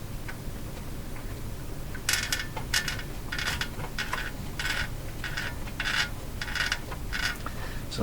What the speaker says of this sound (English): So the sound you're hearing, I believe,